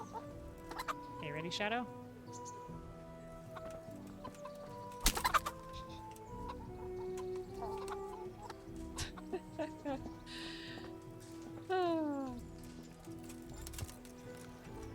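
Chickens cluck and a rooster calls in the medieval village setting of the video game Kingdom Come: Deliverance, scattered bursts over steady game ambience with horse hooves clopping, while someone talks over the sounds.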